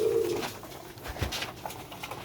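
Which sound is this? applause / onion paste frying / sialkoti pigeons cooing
sialkoti pigeons cooing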